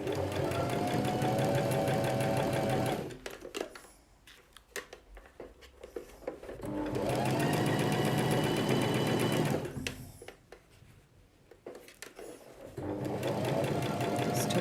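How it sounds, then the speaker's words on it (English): A sewing machine stitches and back-stitches a seam on a gathered full circle skirt, running in three loud, fast bursts separated by short quiet pauses. "back stitch a little bit again, and then a nice straight line, keeping those seams together, Carly."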